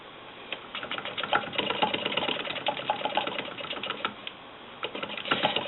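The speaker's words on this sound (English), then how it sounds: "go ahead and sew on down this seam" A Willcox & Gibbs sewing machine sews a quilt-piecing seam with a fast steady clatter of rapid stitching, close and continuous throughout, with no talking.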